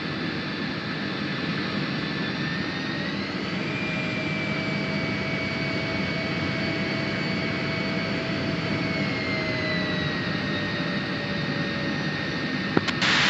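A jet taxis in a flight simulator game with a loud, continuous engine roar and steady high whine whose pitch swells and eases once or twice, then ends in a sharp click, with no talking.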